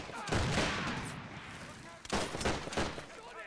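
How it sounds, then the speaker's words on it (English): Mortar blasts and gunfire rumble through a battle in a 1919 German Revolution strategy game pitting Freikorps against Spartacists, with dense booming explosions near the start and another burst of loud blasts after two seconds. "Bring in another mortar."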